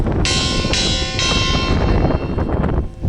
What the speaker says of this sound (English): It's the movement of the water that causes the bell to ring.